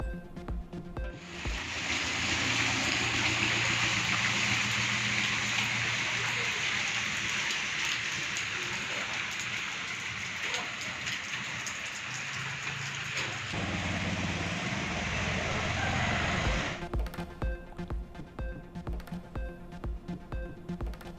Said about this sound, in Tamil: தமிழகத்தின் பல்வேறு பகுதிகளிலும் தொடர்ந்து பெய்த மழையால் சாலைகள் மற்றும் குடியிருப்பு பகுதிகளில் தண்ணீர் தேக்கம்